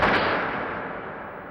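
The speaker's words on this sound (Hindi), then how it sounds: "लगता है कहीं पर गोली चली है बेगम।" A single gunshot in a period TV drama booms out and fades as a long, broad rumbling echo.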